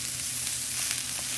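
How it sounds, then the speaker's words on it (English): Tomatoes hitting a hot sauté pan, giving a steady, close sizzle and frying hiss that holds evenly through the short moment with no talking. "we're going to take our tomatoes and add them into the pan"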